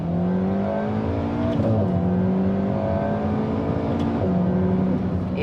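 A 2023 Alpine A110 R launches hard from launch control, its engine holding a loud, steady drone that steps up through two quick upshifts, close and alone without talk.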